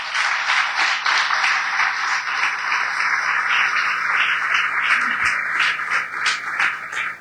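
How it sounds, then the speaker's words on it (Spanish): A church congregation claps during a morning service, a sustained, fairly loud wave of applause with some cheering voices mixed in, running the whole stretch. "¿Cuántos pueden dar un aplauso al Señor en esta mañana?"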